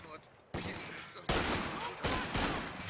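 Machine gun fire in Company of Heroes 2 comes in several loud, sharp bursts with short gaps between them, close and punchy, layered with battle noise.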